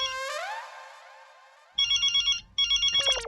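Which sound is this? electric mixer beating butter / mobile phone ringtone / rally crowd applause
mobile phone ringtone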